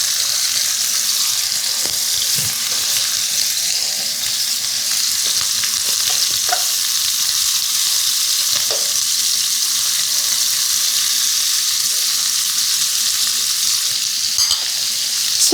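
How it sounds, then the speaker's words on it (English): Chicken thighs sizzle and fry steadily in a Demeyere pan, laid presentation side down to brown in garlic butter, with a continuous close crackle and a few light stirring clicks, no talking. "So we're cooking this to get some browning. I'm gonna go ahead, I put presentation side down first."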